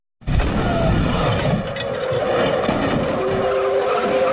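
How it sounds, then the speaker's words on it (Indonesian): Loud, sustained tire skidding and screeching from a car ramming into another car in an action film scene, starting abruptly and carrying on without a break to the end. "tiba-tiba Alex menabrakkan mobilnya ke arah mobil Picasso"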